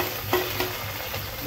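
Garlic sizzles in hot oil with mustard seeds for rasam, a steady close frying hiss broken by a couple of brief stirring scrapes.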